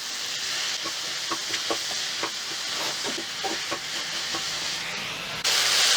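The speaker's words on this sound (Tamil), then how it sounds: "போட்டு காய் நல்லா வதங்கட்டும்." Sliced okra sautéing with salt and turmeric in a pan, giving a steady frying sizzle and hiss with scattered soft stirring clicks, close and continuous, brightening near the end.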